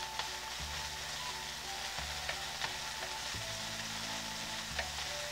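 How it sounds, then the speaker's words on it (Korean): Onions stir-fry in a pan for jajangmyeon with a steady close sizzle and crackle, broken by the scrape and clack of a utensil stirring every second or so. "그냥 살짝만 볶을 거예요."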